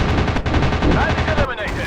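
Rapid machine gun fire from a fighter plane in the video game Warplanes: WW2 Dogfight, a loud continuous burst of fast rattling shots that runs for nearly two seconds with game effects beneath it.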